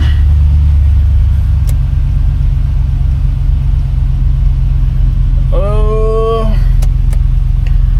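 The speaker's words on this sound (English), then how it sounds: "That LS fires right up." An LS V8 engine in a 1951 car runs with a loud, steady low rumble close by, with a brief rising whine midway.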